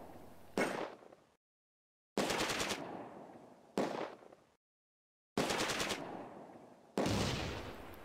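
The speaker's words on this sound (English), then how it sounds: "Shots are exchanged with the Schützen in von Sandt's house." Bursts of gunfire are exchanged in the Close Combat World War II strategy game: five separate sharp volleys of rapid machine-gun fire, each decaying quickly and separated by short silent gaps, with no talk.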